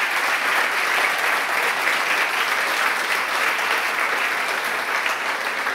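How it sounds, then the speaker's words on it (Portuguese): Sustained applause from a church congregation fills the space for several seconds, dense and even with no pauses and no one speaking over it. "Vamos dar uma salva de palmas para Jesus?"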